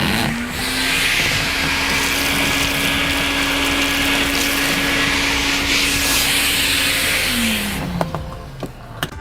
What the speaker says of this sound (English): Chrysler says the stow and go vacuum in the second row of seating can actually reach every spot in the vehicle